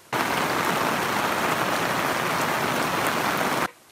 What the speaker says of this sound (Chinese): 大雨下个不停，菜农们穿起了雨衣。